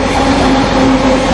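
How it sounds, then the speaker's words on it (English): A train rumbles past at close range, a loud, continuous rolling roar with a steady low hum and wheel rattle throughout, no voices over it. "It's the train."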